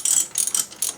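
A hand ratchet clicks in quick, close bursts, roughly four short runs of pawl clicks, while tightening bolts on the front wheel bearing of a 1999–2001 Volvo S60.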